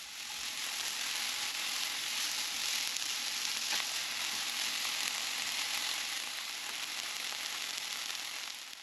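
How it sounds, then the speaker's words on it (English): Peppers and onions sauté in hot oil in a skillet, a steady, close and even sizzle that runs without a break and with no talking. "I'm going to start sauteing my peppers and my onions"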